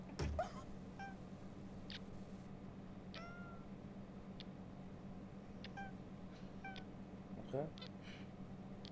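A cat meows several times, giving short, thin, rising calls scattered across a steady background hum. The meows are fairly faint and mid-distance, with a soft thump near the start.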